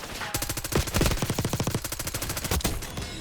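Rapid automatic gunfire in Call of Duty Warzone, close and loud, firing in quick rhythmic bursts of evenly spaced shots, with no voices.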